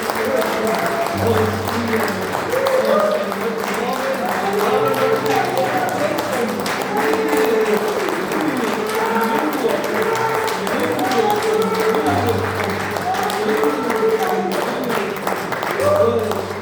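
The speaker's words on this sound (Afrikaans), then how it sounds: "Kom ons klap vir die Here." A church congregation claps hands together in steady rhythmic praise, dense and loud throughout, with singing or voices carrying along underneath the clapping.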